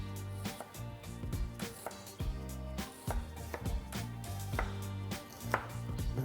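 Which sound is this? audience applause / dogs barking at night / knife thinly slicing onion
knife thinly slicing onion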